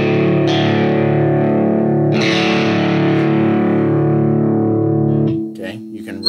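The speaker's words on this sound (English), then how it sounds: "tune your guitar down to drop D so it sounds like this" An electric guitar tuned down to drop D rings out through heavy distortion, one sustained chord fading slowly and then a second struck chord ringing on before it is cut off and muted near the end.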